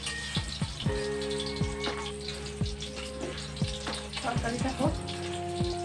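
Water poured into a pan of sizzling curry, a steady loud frying hiss with bubbling and splashes, broken by a few short clinks and knocks from utensils through the clip.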